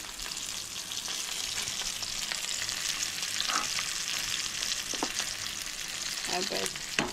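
Karmat fish fries in a pan for a Goan fish dish, sizzling loudly and steadily throughout, with occasional light clinks and scrapes of stirring.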